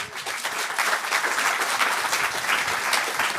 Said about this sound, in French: On vous applaudit à nouveau.